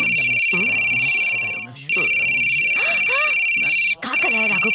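A phone ringtone trills in steady repeated electronic bursts, pausing briefly twice, loud and continuous over talk during a Hindu puja ceremony.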